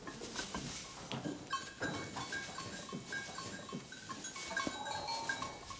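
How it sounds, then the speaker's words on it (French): Goats in a barn butting horns to settle rank, with repeated bleats and scattered knocks and clatter close by, no talk. "cette passe d'armes est normale chez les chèvres."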